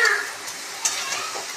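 Spices with turmeric frying in a pan for egg curry, a steady hiss broken by light stirring scrapes and a small clink, close by with no talk.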